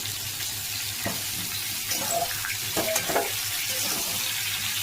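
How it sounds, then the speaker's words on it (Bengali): Pumpkin pieces fry in a pan for a homestyle Bengali vegetable curry, giving a steady close sizzle and hiss throughout with a few soft knocks and stirs, and no talking. "কুমড়োগুলো একটু আমি ভেজে নেব"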